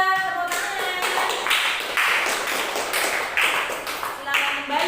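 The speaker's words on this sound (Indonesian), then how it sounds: "Tepuk tangan." Children clapping hands together in an elementary school classroom, a sustained, fairly loud patter of many hands over voices and a background tone.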